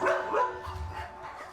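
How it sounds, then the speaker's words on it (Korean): An abandoned puppy, newly brought into a home, gives a couple of short, close barks and yips in quick succession, with quieter whimpering noise trailing after them. "버려진 강아지를 데리고 집으로 들어온 개영 씨"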